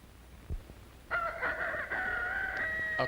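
A rooster crows in the early morning, one long drawn-out call that starts about a second in, loud and near against a quiet background, with a faint thump just before it.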